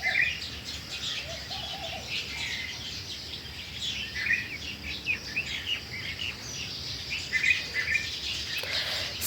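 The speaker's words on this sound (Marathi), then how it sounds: "पहाटे 4 वाजल्यापासून कोकिळ ओरडत होता" Asian koel and small birds call in a village at dawn: repeated koel notes and steady chirping and twittering from several birds, moderately distant, with no talk.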